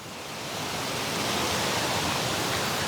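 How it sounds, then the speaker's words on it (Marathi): Spring water pours steadily along a stream at a sacred hillside site, a dense, continuous rushing that swells slightly in the first half-second and then holds loud and close, with no voices over it. "झऱ्याचं पाणी या ठिकाणी वाहत आहे."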